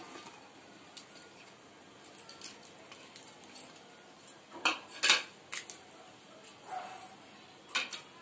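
A metal lid set down over a kadhai of frying mustard-seed fish, giving a few faint clinks and taps of metal on metal amid soft kitchen background noise.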